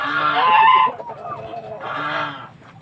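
Native chickens give two loud, close clucking calls separated by a short pause, with softer fowl murmuring in between.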